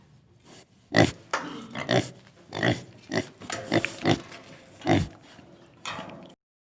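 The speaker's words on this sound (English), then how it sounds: "The sound made by the pig is oink." A pig oinks and grunts up close in a run of short, irregular snorting bursts, some louder than others, with no talking over them.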